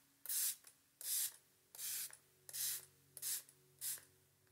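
Six short bursts of Iconic London face spray, each a bright hiss with an even gap between them, close to the mic over a faint steady background hum.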